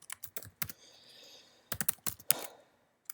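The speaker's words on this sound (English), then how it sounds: "We type in our password." Password being typed on a computer keyboard, close and quiet, in irregular bursts of clicking keystrokes with short pauses and a soft hum between them.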